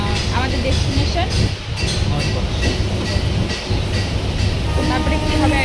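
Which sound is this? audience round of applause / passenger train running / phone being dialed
passenger train running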